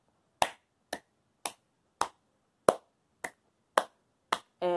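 A child claps out a song rhythm, eight sharp, close, evenly spaced single claps separated by silence, followed at the end by a brief burst of voice.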